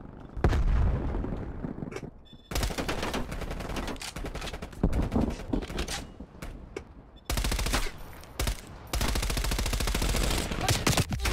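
Call of Duty gameplay gunfire: rapid automatic bursts and heavy shots crackle in loud dense volleys with brief gaps, alone and without voices.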